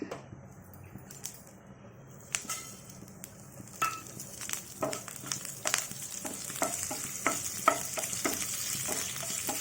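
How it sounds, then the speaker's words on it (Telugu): Crackling sizzle of seasoning seeds tempering in hot oil for a chutney, building and growing denser, with sharp pops and spatters scattered throughout; no talking. "కొంచెం నూనె వేసుకొని పోపు వేసుకుందాం"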